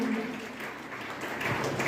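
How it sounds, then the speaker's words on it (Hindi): Sparse, light clapping from an audience at an excellence awards ceremony, thin and uneven over a short stretch with some murmur and room noise underneath. "आपकी तालियाँ कम हैं"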